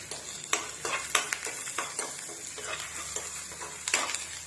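Ginger, garlic and green chilli sauté in a pan with curry leaves and salt, a soft continuous sizzle broken by repeated scraping strokes of a spoon, fairly quiet and close with no voices.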